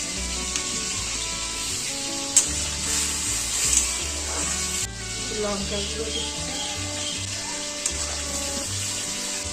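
Fish fries in hot oil in a pan, a steady sizzle with a continuous bright hiss, while people talk over it.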